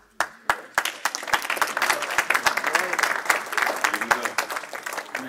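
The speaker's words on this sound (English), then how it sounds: "Man, give him a round of applause." An audience breaks into applause at a live talk event, starting with a few sharp claps and swelling into a steady round of many hands, with voices talking underneath.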